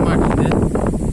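Strong gusting wind buffeting the microphone during heavy rain near Salem, heard as a loud, steady, low rumbling roar with brief rustling swells.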